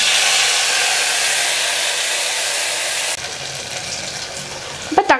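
Finely chopped tomato dropped into a hot pan for tiffin sambar, a loud steady hiss of frying that abruptly drops to a softer sizzle, then a short clatter at the end.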